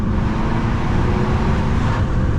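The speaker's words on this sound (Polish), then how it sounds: "normalny dźwięk 4-cylindrowego diesla" A 2016 Volvo S60 D4 four-cylinder diesel engine (190 hp) idles with a low, steady rumble, close and fairly loud, with no one talking.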